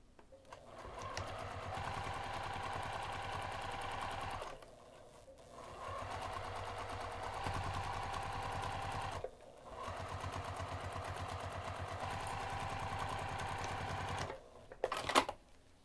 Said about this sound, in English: we're going to sew this using a half inch seam allowance